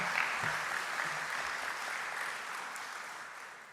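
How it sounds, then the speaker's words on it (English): An audience at a short film awards ceremony applauds the film's star, a broad, moderately loud burst of clapping that gradually fades over a few seconds. "Can we give him another round of applause?"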